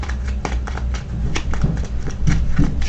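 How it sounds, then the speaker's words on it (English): A deck of game cards for the Kingdom Death Monster board game being shuffled by hand, close and loud, with a quick run of crisp riffling clicks and papery flutters. "I have shuffled up the hit location deck"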